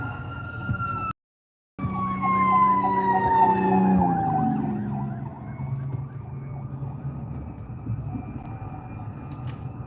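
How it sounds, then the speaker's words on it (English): Two fire trucks racing down a highway with wailing sirens, loud and close, the pitch sliding downward as they pass, with a brief dropout early on and traffic rumble underneath. "Fire truck."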